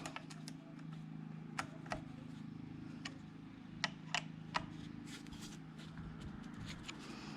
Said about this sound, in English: Let's see if when I tighten up these screws it won't move.